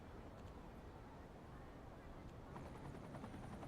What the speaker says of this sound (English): I would like to get a helicopter, a police helicopter starting to fly around the city